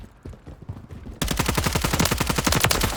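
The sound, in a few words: gunshots in Call of Duty Modern Warfare 3 video game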